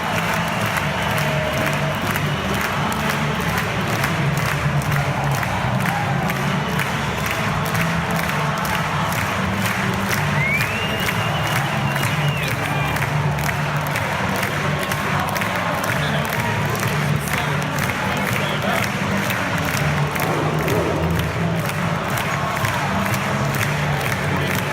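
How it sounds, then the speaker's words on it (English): A large stadium crowd roars and cheers without a break at an Adelaide Oval footy final, a dense and loud wall of voices with scattered clapping. "I'm sure you could hear from what the crowd was doing"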